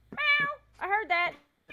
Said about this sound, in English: it's my cat wanting breakfast